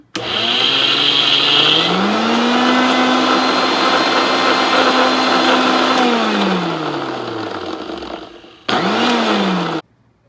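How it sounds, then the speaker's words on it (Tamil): An electric mixer grinder grinding sesame seeds runs loud and steady with a high whine, winds down over a couple of seconds, then bursts on again for a short second pulse before stopping. "வாங்க மிக்சியில் போட்டு இதில் போட்டு எள்ளு அரைப்போம்"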